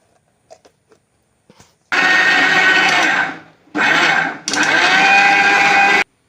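A mixer grinder grinding coconut and beans roars loudly in two long bursts separated by a short pause as it winds down, after a few faint taps and clicks.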